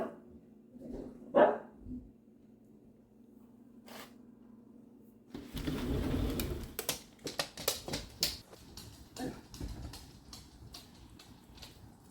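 Two pet dogs bark at home on a windy November afternoon, with a few sharp barks early on, then a busy cluster of rapid, loud barking that trails into scattered single woofs.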